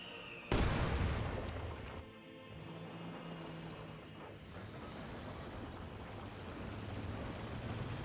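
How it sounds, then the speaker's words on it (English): A rifle grenade launches with a sharp, loud blast in a Company of Heroes 2 battle, followed by a lingering rumble and steady background engine and battlefield noise. "Rifle grenade fired. It's a good hit there on the 150mm mortar."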